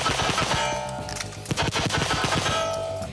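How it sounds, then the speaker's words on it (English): Rapid gunfire from the El Presidente tactical shooting drill on a range: a loud, dense string of shots with quick cracks and ringing steel-target clangs, no talking. "And then, Taryn gives us a demonstration of his abilities on El Presidente."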